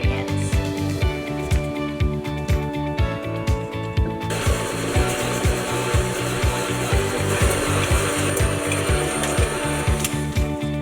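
A stand mixer with a paddle mixing thumbprint cookie dough, with a steady motor hum and a regular, rapid thumping beat as the dough turns, loud and continuous throughout.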